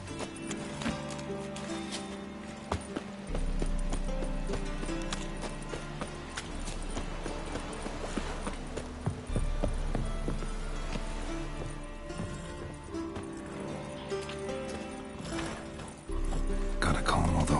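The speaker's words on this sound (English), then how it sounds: "Gotta calm all the horses before they wake the guards." Horses in The Witcher 3 clop their hooves steadily and shift about through the scene, set in a continuous bed of game music and ambience, with a voice speaking at times.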